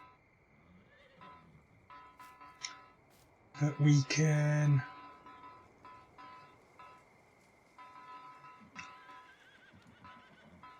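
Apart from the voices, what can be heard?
horses neighing and hooves in video game Farming Simulator 19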